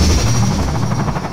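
Aircraft in the Half-Life 2 video game pass overhead with a loud, continuous rumbling roar and a rapid throbbing flutter like rotor blades, steady and close throughout.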